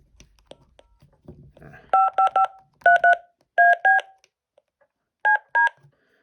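A series of DTMF keypad tones from a BK DPH 5102 radio in short paired bursts, grouped in clusters of two to four with pauses between, loud and clear after a brief faint murmur.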